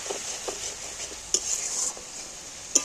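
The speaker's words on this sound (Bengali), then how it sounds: "এইবার আস্তে আস্তে এইগুলোকে ভালো করে কষিয়ে নেব" Spice paste thinned with a little water being slowly stirred and cooked down in a pan, a soft low sizzle under intermittent scraping and a few sharp clinks of utensil against metal.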